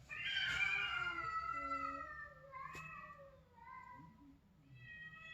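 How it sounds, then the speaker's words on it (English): Cats fighting, with loud, drawn-out meows and wavering caterwauls rising and falling over several seconds, fairly close, over a low background rumble. "there are cats fighting."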